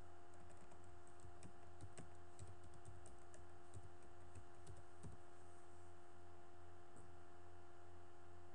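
A password is tapped out on a computer keyboard, producing a run of quick, light key clicks in uneven bursts over a constant low electrical hum, with the typing thinning out toward the end.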